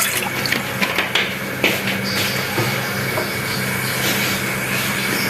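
Water poured into a small cooking pot on a stove, a steady close trickling splash running throughout, with a few light knocks near the start and no talk.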